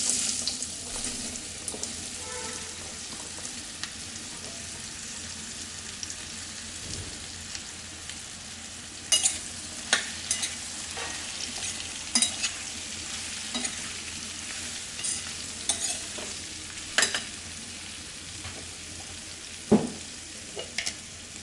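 Mango pieces fry in a pan with bay leaves, cloves, cinnamon, cumin and turmeric for a sweet, sour, spicy Gujarati curry, giving a steady soft sizzle with occasional sharp scrapes and clicks of stirring throughout.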